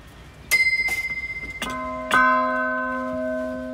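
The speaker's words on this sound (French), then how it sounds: "quand le marteau tape sur la cloche," Hammers strike a church bell in a clock installation: two quick rings, then two heavier strikes that bloom into long, rich, sustained tones with clear overtones, loud and close.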